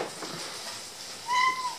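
A cat aboard a small fishing boat, where mackerel are being caught and cooked, gives one short, clear meow near the end, heard over a soft outdoor background hiss.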